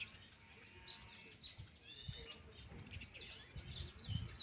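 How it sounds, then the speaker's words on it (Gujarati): Birds feeding in a home courtyard garden chirp and tweet in quick overlapping bursts, close by but faint, against a soft outdoor background. "સરસ મજાના પક્ષી આખો દિવસ હવે ઘર આંગણામાં જ હોય છે"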